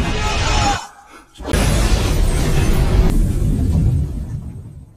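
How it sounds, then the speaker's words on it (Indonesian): A loud, heavy blast follows a brief hush as an explosion destroys a house, with crashing, rumbling debris that slowly fades. "Ledakan tiba-tiba menghancurkan rumah itu"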